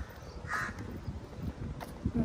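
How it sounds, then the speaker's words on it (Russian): Birds call on an empty beach in Dubai, a few crow-like caws standing out over soft outdoor background noise, moderately near. "А, нет, птички есть."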